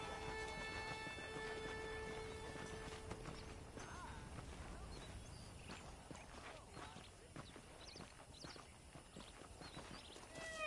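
Saddled horses clip-clopping in the Western video game Red Dead Redemption, with steady hoofbeats and an occasional whinny, heard faintly under game dialogue.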